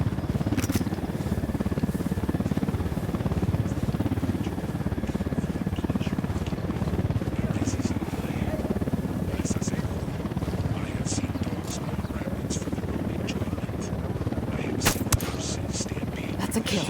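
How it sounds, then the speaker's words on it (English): A Unidad helicopter flies in the video game Ghost Recon Wildlands, its steady rotor drone continuous throughout beneath intermittent talk, with scattered clicks and a few sharp gunshot-like cracks. "Unidad chopper, stay low."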